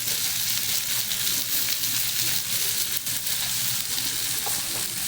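Snails seasoned with salt and turmeric fry in a pan, giving a steady, close, broadband sizzle and crackle that holds at an even loudness throughout, with no voices.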